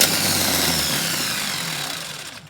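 Starter motor on a dually truck, engaged by bridging the start terminal with a screwdriver, whirring loudly and steadily for about two seconds before winding down, alone.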